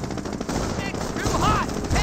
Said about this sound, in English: Is that another Panzerfaust firing?